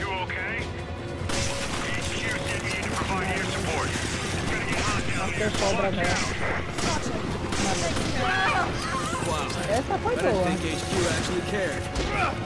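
Dense, continuous barrage of Resident Evil 5 co-op gunfire with rapid shots and bursts, mixed with game effects and occasional voices underneath throughout.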